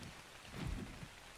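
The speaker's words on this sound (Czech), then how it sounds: "Já jsem se lekl, to je déšť" Soft, steady patter of rain with a low rumble swelling briefly in the middle, quiet and continuous, in the video game Ark: Survival Evolved.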